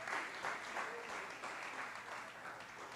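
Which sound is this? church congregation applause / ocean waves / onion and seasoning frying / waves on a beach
church congregation applause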